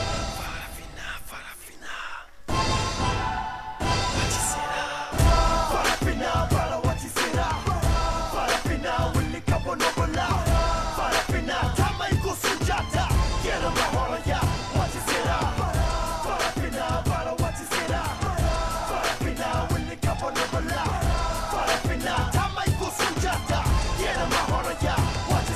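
An audience at the official opening of a hip hop festival applauds and cheers in a loud, dense ovation that runs on without a break after a brief quieter start.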